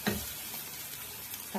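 A pan of mushroom gravy fries with a steady, close hiss as coriander is added. The sizzle stays even throughout, with a faint clatter at the start and end and no voices.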